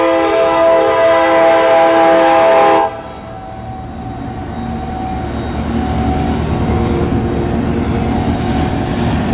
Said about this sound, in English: Southbound heading to Columbus, Ohio.